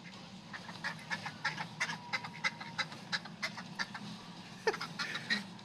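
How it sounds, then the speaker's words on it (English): Repeated duck quacks in an irregular series, moderately close, over a low background hum of a crowded outdoor space. "This duck noise, everybody, was recorded by me and Martine at a Christmas market in Salzburg."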